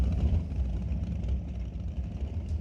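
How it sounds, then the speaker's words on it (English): Pro Mod drag cars and a Top Fuel Harley sit near the staging lanes at Mission Raceway Park, engines making a continuous heavy, loping low-pitched idle rumble that stays loud and steady throughout. "I hear race cars."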